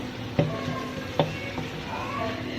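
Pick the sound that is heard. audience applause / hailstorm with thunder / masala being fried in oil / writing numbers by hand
masala being fried in oil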